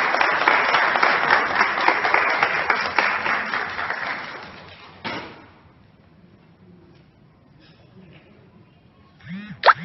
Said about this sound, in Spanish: Recibimos con un fuerte aplauso a Laura Cecilia Bedoya Ángel.